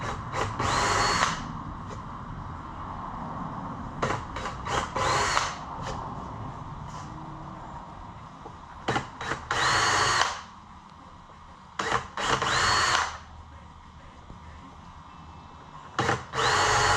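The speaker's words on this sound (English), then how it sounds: "Take my drill bit and just get those started." Several short bursts of a power drill whirring into wood, starting holes in a custom wooden cabinet, separated by pauses, close by with no talking.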